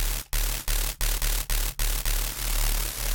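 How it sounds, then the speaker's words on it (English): A noisy square drum-and-bass synth bass built in Vital, with white noise blended in, pulses loudly in a steady rhythmic pattern of roughly eight sustained hits broken by short gaps. "when we mix the level of the white noise as well"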